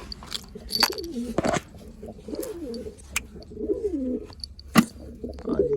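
Village pigeons kept by a hobbyist, among them a blue-patched bird, give repeated throaty coos and warbling calls up close, with scattered chirps and small clicks between them.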